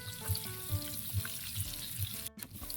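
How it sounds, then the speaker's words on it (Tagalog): Garlic and onion sauté in a pan with a steady close sizzle and crackle, while a low utensil rhythm pulses about twice a second. No one speaks. "Dito na tayo, magigisa na po tayo."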